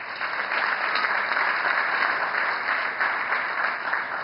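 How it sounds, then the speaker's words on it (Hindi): Audience applause fills the hall at the inauguration ceremony of the INS Towers in Mumbai, a dense, even wash of clapping held at a constant level for over four seconds, with no voices. "बहुत बहुत तालियां।"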